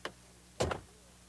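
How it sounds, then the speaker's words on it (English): Car door worked by hand on a test drive, a light click followed about half a second later by a firmer thud, both quiet and close with nothing else around. "a properly designed door ought to open and close easily"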